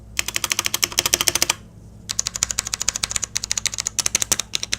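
Rapid clicking from a SteelSeries Apex M500 mechanical keyboard comes in close, loud bursts of many key presses, with a short pause between them, over a faint steady hum.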